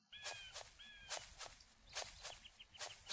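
Footsteps in an Unreal Engine 4 game scene, a steady series of crisp, fairly quiet steps with faint whistling chirps early on.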